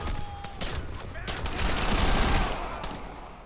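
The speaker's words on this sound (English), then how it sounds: "I'm still getting shot at" Rapid gunfire bursts and bangs in the Crackdown video game, a dense loud volley of shots and booms continuing through the whole moment.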